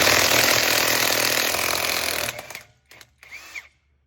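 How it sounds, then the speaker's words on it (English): A handheld impact wrench tightens lug nuts on a car wheel, making a loud continuous whirring hammer for about two seconds, then a few short bursts and stops. "I'm going to use this impact."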